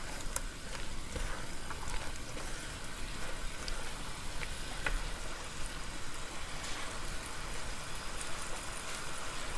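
Beef salpicao steak pieces sizzle in a pan, a steady, moderately faint frying hiss with scattered crackles and pops continuing throughout.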